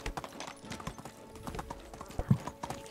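Horse hooves clip-clopping in a steady trotting rhythm as a rider travels in the medieval-era game Medieval Dynasty, fairly close and clear, with faint ambient noise behind.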